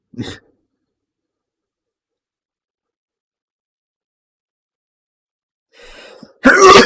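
A single sharp sneeze bursts out near the end, preceded by a quick inhale, with a brief throat noise at the start and near silence in between.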